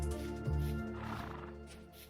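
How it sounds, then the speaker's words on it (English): A gazelle in Vintage Story giving a horse-like neigh: one loud whinny with a rising, wavering pitch that fades into softer breathy tails over a couple of seconds. "Why does the gazelle make horse noises?"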